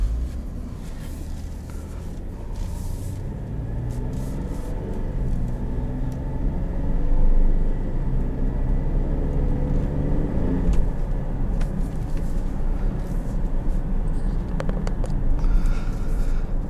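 A 2016 Cadillac SRX Performance Collection with the GM 3.6-liter V6 on the move, a steady low engine and road rumble from inside the cabin that swells slightly as it accelerates.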